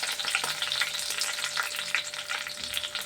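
Curry leaves crackle and sizzle in hot oil, with a bright, steady frying hiss and scattered pops close by.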